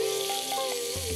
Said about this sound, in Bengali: খুব হালকা করেই ভাজা, হালকা করে ভাজা হবে